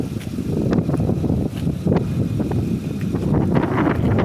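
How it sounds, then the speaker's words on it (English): Strong wind gusts buffet the microphone outdoors beside a 2007 Harley-Davidson Ultra Classic motorcycle, a steady loud roar with rushing swells and no speech. "The wind is really whipping up here"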